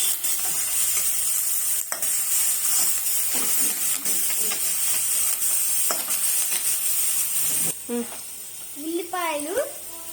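Onions frying with salt in a pan are stirred by spoon, steady sizzling hiss under sharp scraping strokes, while a person talks briefly near the end.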